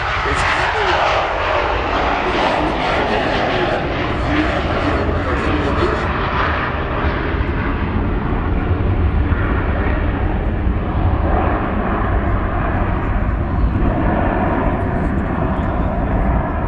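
A McDonnell Douglas MD-87 jet takes off from a runway crossing, its engines a loud, continuous roar. The roar is strongest at the start and then holds as a broad, sustained rumble.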